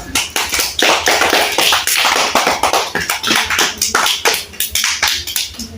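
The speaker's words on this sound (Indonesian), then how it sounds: "Tepuk tangan dulu." Schoolchildren in an elementary classroom clap their hands loudly and close by, a quick irregular patter of sharp claps that continues throughout with no talking over it.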